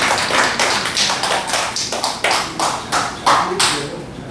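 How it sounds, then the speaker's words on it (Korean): A congregation at a Korean Wednesday church service claps its hands. Sharp, uneven claps come in scattered bursts, fairly close and steady across the whole stretch. "우리 최명화 목사님 박수 한번 쳐주세요"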